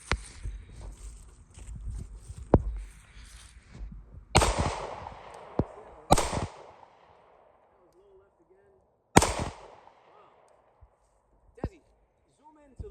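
Glock 43x pistol, a ported model, fired with its stock trigger at a steel plate outdoors: several sharp, loud separate shots spaced a second or more apart, each with a short ringing decay, with faint talk and handling noise early on.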